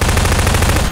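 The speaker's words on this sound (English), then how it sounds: "Stop shooting everything." Rapid automatic gunfire in Garry's Mod Prop Hunt, a dense burst of fast repeating shots, very loud and close, stopping abruptly at the end.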